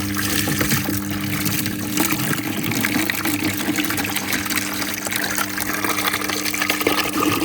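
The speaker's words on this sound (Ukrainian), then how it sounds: "сюди у нас качає насос з колодязя воду" Water gushes steadily from a tap fed by a pump drawing from a well at a village house in winter, a loud, continuous close rush with a low pump hum beneath it and no voices.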